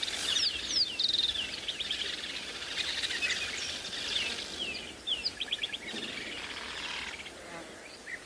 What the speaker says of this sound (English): And now the buffalo weavers joining in as well.